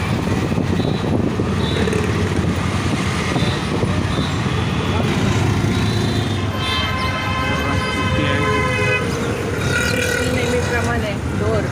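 An auto rickshaw ride through busy traffic from Delhi Darwaza, with a constant engine and road roar, passing vehicles, and horns or siren-like tones sounding midway, while people talk along the way.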